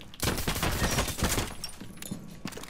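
Burst of gunfire in the Rainbow Six Siege video game, a rapid, dense rattle of loud shots for about a second and a half, then thinning to scattered shots with faint game sounds.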